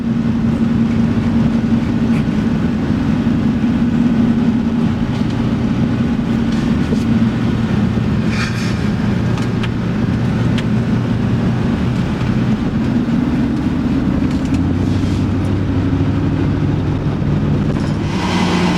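A Chevy Express van with a 6L90E transmission rolls downhill, heard from inside as a loud, steady low drone of road and drivetrain noise with a shifting engine hum, continuous throughout with no speech.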